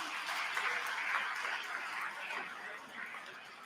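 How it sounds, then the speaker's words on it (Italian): Applause from a congregation at a Catholic Mass, honouring the attending priests: a soft, distant, even wash of clapping that fades slightly toward the end. "facciamo un applauso anche a loro"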